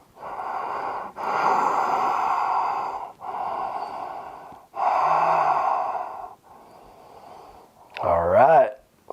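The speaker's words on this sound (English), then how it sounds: "Another breath." Deep, slow breaths during a yoga twist practice: several long, loud airy inhales and exhales close to the microphone, separated by short pauses, with a brief voiced sound at the very end.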